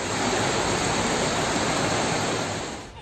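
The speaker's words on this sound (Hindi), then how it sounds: "बाढ़ का पानी अपनी ही रफ्तार में बेपरवाह बह रहा है" Floodwater rushes steadily through a flooded settlement, a dense, continuous roar of flowing water that stays loud and even before fading slightly at the end, with no voices.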